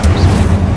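An Incendio fire spell cast in the video game Hogwarts Legacy gives a loud, brief whooshing roar with a deep steady rumble, heard alone.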